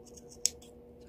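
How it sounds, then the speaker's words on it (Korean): Scissors snip notches into a fabric seam allowance at a pocket opening during garment sewing, a single crisp close cut amid a few faint rustles in a quiet room. "가위집을 줄 거예요"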